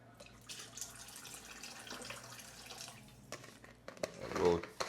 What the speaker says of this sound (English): So now I'm going to catch water now